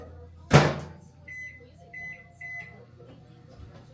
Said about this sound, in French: une demi environ de mon bloc de cream cheese que je vais aller ramollir dans le micro-ondes